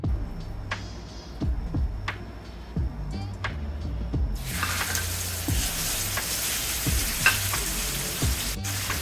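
Salmon fillets sizzle loudly in a frying pan, a steady dense hiss that jumps sharply louder midway as more fish hits the hot pan, with scattered pops and utensil clicks throughout.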